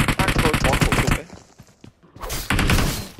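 Automatic M4 rifle fire in a shooter video game: a loud rapid burst, a brief lull with scattered thuds, then another dense burst of shots.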